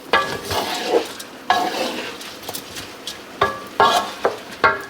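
A utensil stirs stock into a very hot aluminum pot, giving a steady sizzle broken by repeated scraping and clinking strokes against the metal.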